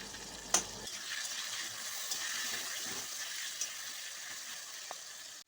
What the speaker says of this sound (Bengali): আলুগুলোকে একটু সুন্দর করে মা ভেজে নিচ্ছে